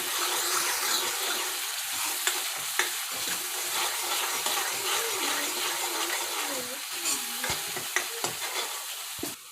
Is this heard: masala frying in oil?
yes